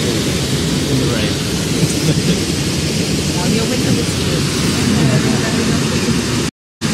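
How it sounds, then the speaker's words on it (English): Steady heavy rain with low rumbling like distant thunder fills the scene outdoors at a bear-viewing spot, loud and continuous, with people talking faintly underneath. "In the rain."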